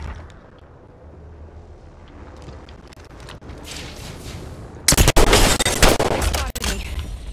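Gunfire in the video game Apex Legends, a low rumble of distant shots building to a loud, dense burst of rapid automatic fire near the end.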